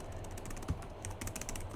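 Keys clatter on a computer keyboard in quick, uneven bursts of light clicks, fairly faint and close, with a heavier thump partway through.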